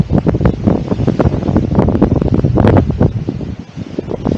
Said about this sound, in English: The wind, she's blowing.